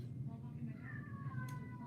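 A cat gives a drawn-out, falling meow, fairly faint, over a steady low background rumble.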